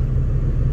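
Steady low road rumble from inside a high-mileage Toyota Camry driving along, a continuous engine and tire drone with no voices.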